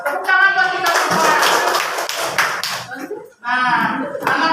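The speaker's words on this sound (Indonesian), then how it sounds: "Ya, tepuk tangan buat kita semua." Children clapping their hands in a classroom, a dense burst of claps in the middle, bracketed by a teacher's voice talking before and after.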